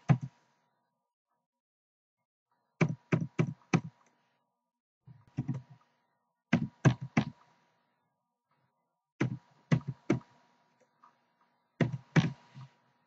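Clicky bursts of typing on a computer keyboard as a file name is entered, several quick groups of keystrokes separated by short pauses, close and fairly quiet with no talking.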